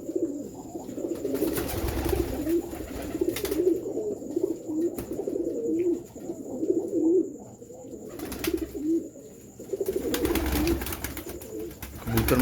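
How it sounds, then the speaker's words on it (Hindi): Pigeons, breeder birds including a female with two young, coo in repeated soft low calls, close and steady across the stretch, with a few brief louder bursts of background noise. "ए साधना कबूतर है माशाल्लाह"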